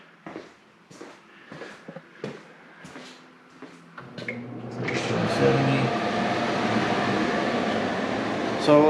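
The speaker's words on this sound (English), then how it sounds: "So we'll turn the air conditioner on." A portable air conditioner in a garage, switched on by remote, starts with a few clicks and beeps, then settles into a loud, steady whooshing hum of fan and compressor that fills the space.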